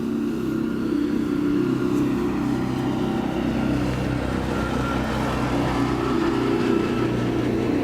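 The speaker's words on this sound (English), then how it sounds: "Noisy truck." A noisy truck engine rumbles steadily at an airport, with a loud, constant low drone and mechanical whine that persists without a break, and no voices over it.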